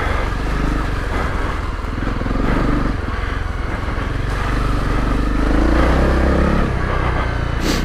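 A Honda CRF250 Rally motorcycle engine drones steadily and loud throughout while riding off-road on a loose, low-grip trail, with continuous broadband road and wind noise.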